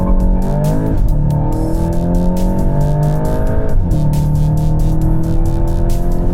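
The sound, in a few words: Volkswagen Golf GTI launch acceleration on track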